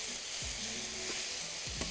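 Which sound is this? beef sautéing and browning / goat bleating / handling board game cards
beef sautéing and browning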